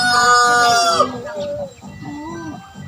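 A rooster crows loudly for about a second, then chickens cluck and call in a crowded farmyard of gamefowl and chick pens, with someone talking over them.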